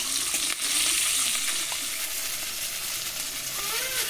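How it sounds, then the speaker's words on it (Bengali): A rohu fish head fries in oil left over from frying cauliflower, a loud, continuous close-up sizzle and crackle throughout with no talking. "ফুলকপি ভাজার তেলে দিয়ে দিচ্ছি মাছের মাথা"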